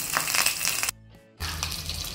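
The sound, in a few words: pouring water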